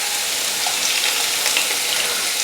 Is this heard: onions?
yes